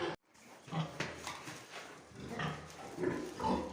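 Piglets on a farm grunt and squeal softly in a pen, a steady low rustle of small animals close by with scattered brief oinks and no talking.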